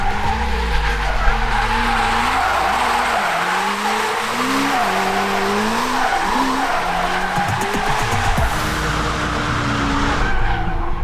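Loud, sustained tire squeal as a Hyundai RN24 rally car drifts, the engine revving and pitch rising and falling, with no talking.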